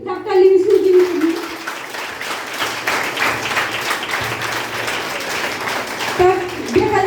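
Applause from an audience at a housewives' success-story event, steady dense clapping running throughout, with a voice speaking over it at the start and again near the end.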